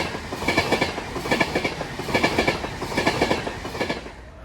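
A passenger train bound for Glasgow Central from London Euston passes on a diverted route, its wheels beating out a steady, loud clickety-clack rhythm close by as the carriages roll through.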